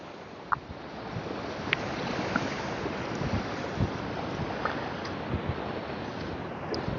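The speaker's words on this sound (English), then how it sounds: "So these waves are coming in like a lot" Ocean waves roll onto the beach at Smyrna Dunes, New Smyrna Beach, at sunrise, a steady broad wash of surf with wind noise buffeting the microphone and a few faint clicks on top.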